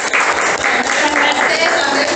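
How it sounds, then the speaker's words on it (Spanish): Audience applause for a teacher at a talk on citizenship, a dense, steady wash of clapping from a room of people lasting a couple of seconds, with voices mixed in. "un aplauso a la profe"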